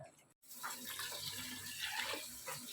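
Water poured into a cooking pot over soaked rice and mung dal for khichdi, a steady broadband rush that runs almost continuously after a brief gap at the start, close and fairly loud with no talk.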